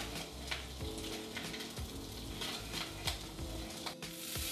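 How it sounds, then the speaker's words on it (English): Lamb meat browning in a pan for moussaka, giving off a dense, constant sizzle with occasional light clicks and scrapes of a utensil against the pan, close and with no talking. "So what you want is for the meat to be really, really brown"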